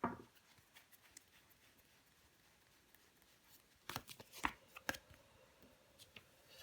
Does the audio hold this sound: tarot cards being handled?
yes